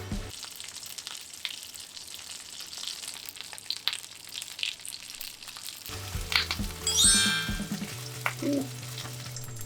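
Sliced potatoes fry in a frying pan with a soft continuous crackle, then the pan is shaken and scraped, giving a louder burst of rattling and hissing before the sizzle settles again.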